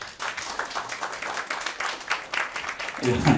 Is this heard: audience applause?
yes